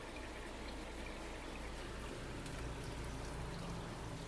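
Water from a pond pump spills steadily into a newly built bog filter, a continuous close splashing and gurgling wash that stays even throughout.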